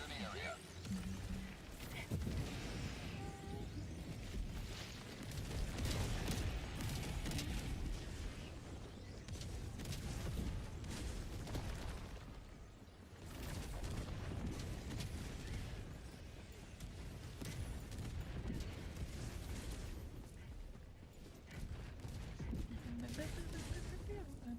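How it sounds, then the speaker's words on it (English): Orbital barrage explosions in Helldivers 2 roll on continuously as a dense, heavy rumble of repeated blasts, loud throughout, with voices talking over the bombardment. "Firing orbital barrage, clear the area."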